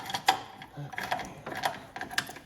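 Bolts and gears come off a snow thrower during a bushing repair, giving a quick series of sharp metallic clicks, ratcheting and clinks up close, irregular and busy over a couple of seconds.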